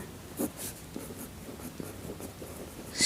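A pen scratches out a maths solution for a class 10 triangles exercise, faint soft strokes and taps arriving in short irregular bursts against a quiet background.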